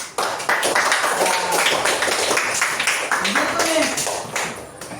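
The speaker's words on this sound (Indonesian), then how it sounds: "Tepuk tangan untuk kita semua." A classroom of students claps for the class groups, brisk uneven applause filling the room, with voices talking over the clapping.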